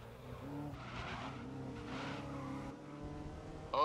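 Race cars roar through a Paris street circuit in the racing video game GRID, steady engine drones layered with gear changes and brief tire squeal, loud and continuous throughout.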